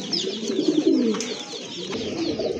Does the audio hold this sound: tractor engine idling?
no